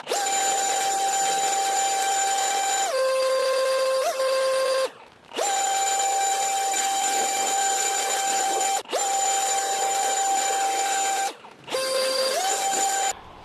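A Toro 60V Flex Force cordless leaf blower with a large nozzle roars in loud, close bursts, its whine shifting pitch between throttle levels, with brief drops where the trigger is released before revving up again.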